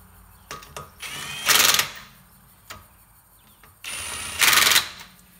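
Pneumatic impact gun set to low torque tightening car wheel lug nuts in a crisscross pattern: two loud sustained rattling bursts separated by a pause, each preceded by short clicks and triggers, close up with no talk.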